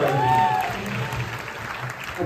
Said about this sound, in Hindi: तालियां मारो भाई।